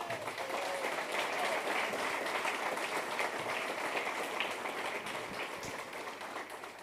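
Steady, sustained applause fills a presidential candidate forum for Samuel Doria Medina in Bolivia. The dense clapping from a large audience holds for about seven seconds and tapers slightly at the end.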